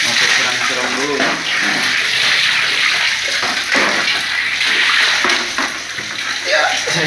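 Water is splashed and poured to rinse a storage area, a continuous loud spattering and gushing that runs throughout under a person talking.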